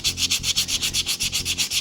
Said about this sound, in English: Let's just start by just sanding her smooth, get down to bare metal.